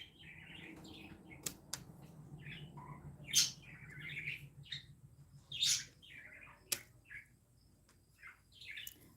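Pet birds chirp and tweet indoors in a steady run of short, bright calls, several louder bursts standing out over a low background hum, with no talking.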